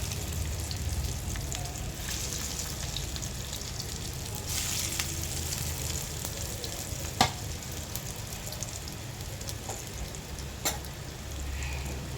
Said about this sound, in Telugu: ఇప్పుడు ఈ కట్ చేసుకున్న ముక్కలు నూనెలో వేసుకుందామండి